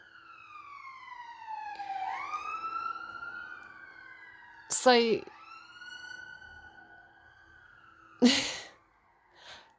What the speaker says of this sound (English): let's let that siren go past